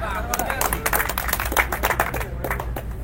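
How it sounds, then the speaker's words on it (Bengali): A small group of people at a roadside stop on a motorcycle tour claps in quick, uneven bursts close by, and talk and chatter mix in with the clapping. "একটু জোরে তালি দেন"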